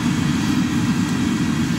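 A forge burner fed with waste motor oil, roaring in a steady, dense, low rumble with no breaks, loud and close.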